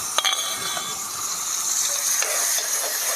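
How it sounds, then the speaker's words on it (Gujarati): Chopped onions and tomatoes dropped into hot oil with cumin and a pinch of asafoetida, giving a steady bright sizzle with a few clinks of a spoon stirring the pan, close and continuous. "સાથે ચપટી હિંગ ઉમેરીશું અને સમારેલા કાંદા અને સમારેલા ટામેટા ઉમેરી દઈશું"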